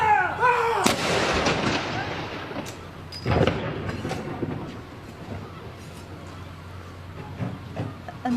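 Artillery guns fire a ceremonial gun salute marking the death of Prince Philip, with loud booming blasts near the start and again around the middle, each followed by a long rumbling echo that fades slowly across open ground.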